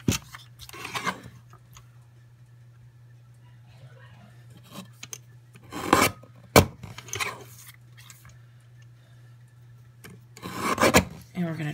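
A small paper trimmer slices a planner printable in a few separate rasping strokes, close by, with long quiet gaps and a steady low hum underneath.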